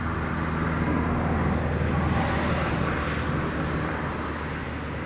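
Steady, loud broadband engine drone of farm machinery pruning nut trees in an orchard, continuous and unbroken for the whole stretch with no pauses or distinct events.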